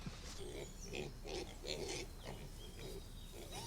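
Pigs grunt and snort in a field, a series of low, rough, breathy calls at close range over faint outdoor background noise.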